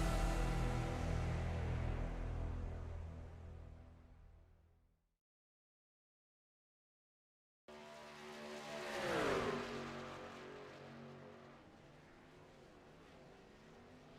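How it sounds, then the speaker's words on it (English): Pro 2 and Pro 4 off-road racing trucks in the iRacing sim roar and rev loudly, fade out into a short silence, then return with an engine sweeping past and a steady drone afterward. "Introducing Pro 2 and Pro 4 trucks on iRacing."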